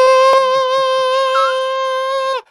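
A voice imitates a banshee's cry with a single loud, sustained high wail held for about two seconds, wavering slightly before cutting off abruptly, with faint background noise beneath.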